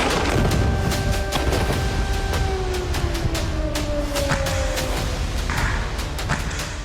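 Repeated booming blasts and sharp cracks of explosions in Gaza sound over a dense, rumbling background, with a faint siren-like tone sliding underneath.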